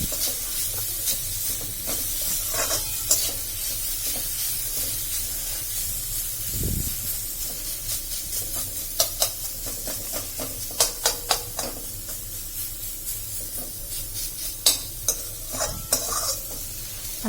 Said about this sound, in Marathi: भाजून घ्यायचं आहे थोडं याच्यातलं मॉइश्चरायझर जे आहे ते कमी होईपर्यंत आपल्याला याला हलवायचं आहे थोडं